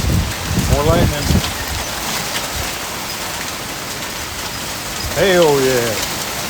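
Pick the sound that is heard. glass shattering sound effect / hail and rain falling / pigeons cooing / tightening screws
hail and rain falling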